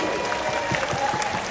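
Seminar audience applauding a guest, Pak Rusli, with steady dense clapping throughout a short burst, moderately loud in a reverberant room.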